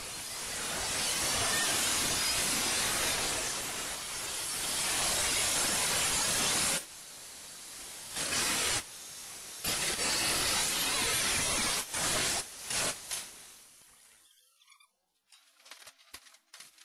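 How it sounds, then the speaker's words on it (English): A die grinder cuts away an old jagged metal edge on a 1967 Mustang body, a loud, harsh continuous hiss running for several seconds, then breaking into short bursts with abrupt stops before falling quiet. "we'll be doing that with a die grinder, not a chisel"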